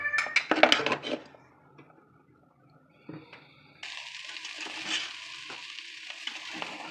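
A cat meows loudly a few times before chicken fried rice with butter starts sizzling in the pan, a steady close hiss with light stirring scrapes.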